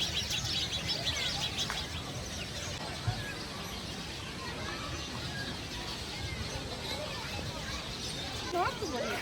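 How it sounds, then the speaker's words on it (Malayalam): Caged parrots and other birds call at Al Khor Park in Qatar, a busy mix of chirps and tweets running steadily through the whole stretch over a dense outdoor background, moderately near with no talking. "കുറേ കിളികൾ പാരറ്റിനെയൊക്കെ ഇങ്ങനെ കൂട്ടിലിട്ടിട്ടുണ്ട് കേട്ടോ. നല്ല സൗണ്ടുണ്ട് ബേർഡ്സിൻ്റെ"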